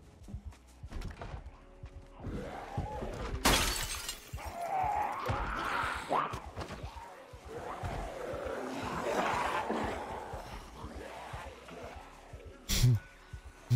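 In the zombie survival game Project Zomboid, window glass shatters with a sharp crash and later a second brief break, amid game ambience while players talk excitedly over it.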